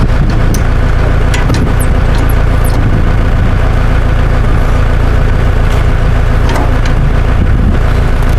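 A Case 900 tractor engine runs steadily throughout, a loud low rumble with a continuous idling drone and occasional brief higher rattles over it, and no voices.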